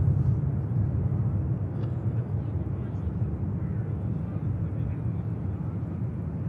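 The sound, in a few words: TUI airliner on the runway at Manchester Airport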